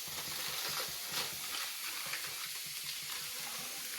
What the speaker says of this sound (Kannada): ಇದು ಚೆನ್ನಾಗಿ ಫ್ರೈ ಆಗಲಿ